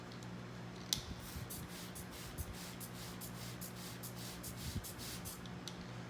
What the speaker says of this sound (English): when working with this dry soil, I like to spray each cell about 10 to 12 times.